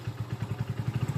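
A motorbike engine starts up and runs close by, with a steady low, regular putter of pulses that quickens slightly toward the end, heard alone without speech.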